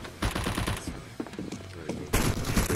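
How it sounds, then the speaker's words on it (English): Gunfire in the CS:GO video game: rapid bursts of automatic shots in uneven clusters, moderately loud, with a sharper, louder burst near the end. "stop firing at me"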